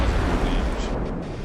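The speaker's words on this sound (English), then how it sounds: "it looks like the high explosives are causing more damage" High explosive shells striking warships in the naval game Ultimate Admiral: Dreadnoughts, a dense rumbling roar of impacts and blasts blending into a continuous loud wash.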